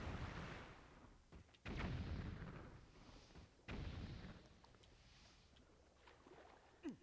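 Bomb blasts in the video game Twilight Princess: two heavy, booming bursts about two seconds apart, each with a rumbling tail, set against a steady low game background.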